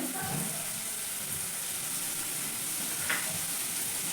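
Chopped onion tipped into two or three spoons of hot oil in a pan for a veg momo filling, giving a loud, steady hiss of frying that fills the whole clip.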